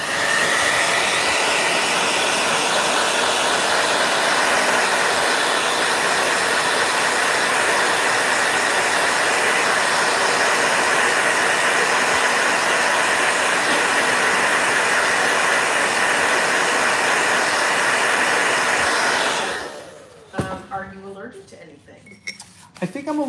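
A blow dryer runs with a loud, steady whooshing roar for about twenty seconds, then switches off, leaving quieter handling noises and faint voices.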